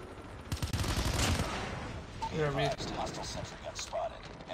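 A sentry gun opens fire in the Call of Duty Mobile multiplayer game, a quick rattling burst of automatic shots amid busy game effects, with a player talking over it.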